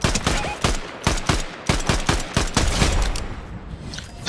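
Rapid gunfire from Fortnite rings out as a string of sharp, loud shots in quick uneven bursts, each with a short echoing tail, and the shots thin out toward the end.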